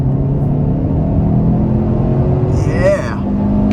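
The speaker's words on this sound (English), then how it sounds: "we'll try a third gear pull" A 2023 Kia Sorento EX pulling hard in third gear, its engine drone rising steadily under road rumble, with a voice speaking over it.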